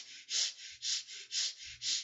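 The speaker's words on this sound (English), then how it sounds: "It's a gentle and a short breath with awareness every time you inhale." Short, gentle breaths drawn into the chest during a guided meditation. There are four soft, airy inhalations at a steady, even pace, close and quiet, with no talking.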